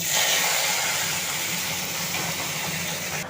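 Onion paste goes into hot oil with whole cinnamon, cardamom, cloves and dried red chillies, making a loud, steady hissing sizzle that eases off slightly as it continues, with no voices.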